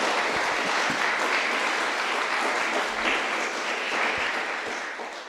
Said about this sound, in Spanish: Regálale un aplauso al esfuerzo de Hugo, por favor.